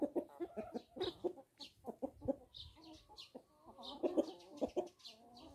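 Xin Dian chickens, a breed that lays green eggs, cluck close by in a quick series of short, irregular calls, with occasional higher squawks mixed in.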